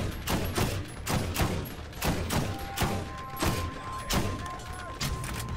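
A scout rifle in the shooter game Borderlands fires in a rapid rhythmic volley of loud, punchy shots, about a dozen evenly spaced cracks with mechanical clatter between them.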